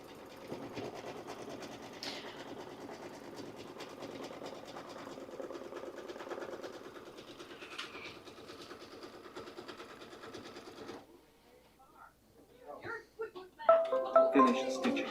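A Kimberbell embroidery machine stitches a mystery quilt block, running with a steady, close mechanical whir for about eleven seconds before it stops, leaving near quiet and then a few short beeps and clicks.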